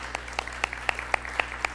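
A church audience applauds to welcome first-time visitors, a steady patter of scattered hand claps with a low hum underneath, moderately loud and continuous for a couple of seconds.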